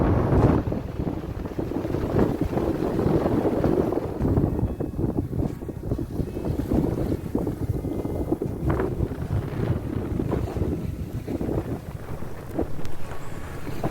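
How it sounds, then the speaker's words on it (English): A sailboat under way at sea off Cornwall, tacking west from Falmouth, with steady wind buffeting the microphone and the rush of water along the hull, constant and close without any talk. "we set sail from Falmouth, tacking west towards Land End and the fishing harbour Newlyn"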